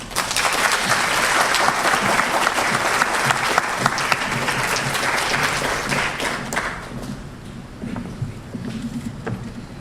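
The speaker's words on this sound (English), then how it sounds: "Please join me in thanking them with a round of applause." Audience applause at an evening induction ceremony, a dense sustained clapping from a large crowd that fades gradually toward the end.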